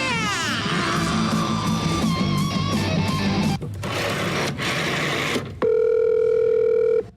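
Telephone tones heard while accessing a voicemail account: warbling, sweeping electronic tones give way to a steady, loud dial-type tone near the end, with brief breaks between segments.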